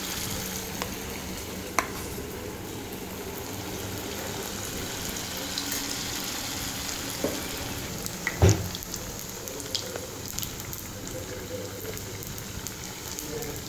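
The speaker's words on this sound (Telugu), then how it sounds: "వేసి ఎర్రగా వేగించాలి" Spiced cauliflower 65 florets coated in red chilli powder and ginger-garlic paste sizzle steadily in hot oil, a continuous close crackling hiss with a few sharper pops and clinks, no talking.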